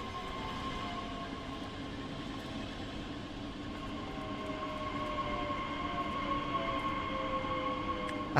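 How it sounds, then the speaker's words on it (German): Regional express train pulling into a station platform in the Train Sim World 4 video game, a steady rolling rumble with a faint high whine that swells slightly as it arrives, heard alone without talk. "Da drüben fährt ein RE ein."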